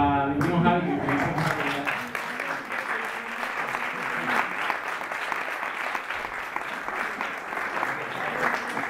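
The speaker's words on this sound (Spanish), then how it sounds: "Un aplauso para mi primo Javi." Audience at a jazz club applauding loudly and steadily after brief musical tones at the start, a dense sustained wash of clapping throughout.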